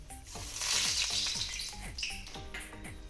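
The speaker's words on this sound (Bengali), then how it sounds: "তেল আমার গরম হয়ে গেছে এবার ফোড়নের জন্য দিয়ে দেবো একটু কালো জিরে" Nigella seeds crackling in hot oil for tempering, a dense sizzle with quick repeated spattering pops, close and fairly quiet, no talking.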